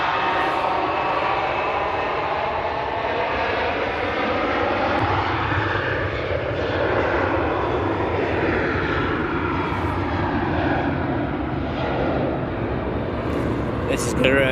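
A Qatar airliner bound for Doha takes off from Manchester Airport, its jet engines a loud, sustained broadband roar that holds steady throughout while people talk over it.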